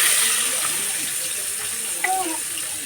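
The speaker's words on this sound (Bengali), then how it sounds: "এখন তেল গরম হয়ে গেছে, আমি পেঁয়াজটা দিয়ে দিচ্ছি" Chopped onions hit hot oil in a home kitchen pan while cooking a sweet pumpkin vegetable dish, giving a steady, moderate hiss and sizzle with faint crackles throughout.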